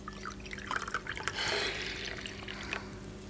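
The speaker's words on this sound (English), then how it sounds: "how about I pour us a cup of tea before we get down to business?" Tea poured from a pot into a cup during a sit-down meeting, a light liquid trickle and splash rising mid-clip over a steady low room hum, fairly close.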